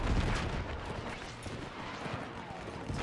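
Rapid gunfire and battlefield noise from a World War I game set with the German Empire, a dense continuous rattle of shots and distant blasts filling the clip at moderate loudness.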